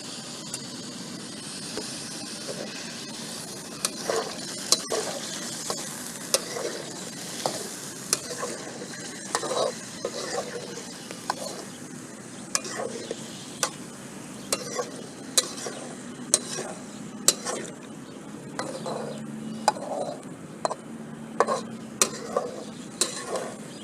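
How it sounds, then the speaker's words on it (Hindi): Chicken karahi frying in a pan, a steady close sizzle with repeated scraping and clinking of a spoon stirring against the metal pan throughout. "थोड़ी देर इसको मज़ीद फ्राई होने देंगे कवर करके।"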